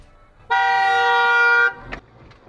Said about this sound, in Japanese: 信号を無視した車からクラクションが。